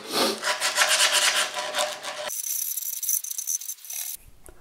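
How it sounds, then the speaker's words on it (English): Sandpaper rubs back and forth over a routed wooden Precision bass body, a close, rhythmic rasping scrape that runs continuously, then shifts to a lighter, thinner hiss before a brief pause. "They just need a little bit of a tickle up with a bit of sandpaper."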